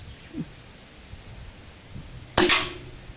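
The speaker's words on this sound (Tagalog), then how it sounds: "So first shot po using meteor pellets." A CO2 airgun fires a single meteor pellet at a 20-meter target, giving one sharp, loud crack that tails off quickly over a quiet outdoor background with faint earlier knocks.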